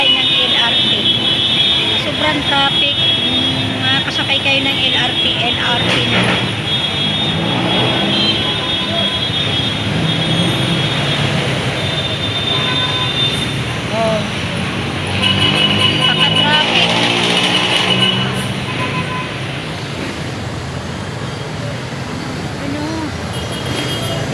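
Heavy road traffic rumbles continuously at an overpass on España, with engines droning and vehicles passing close by while a person talks over the noise.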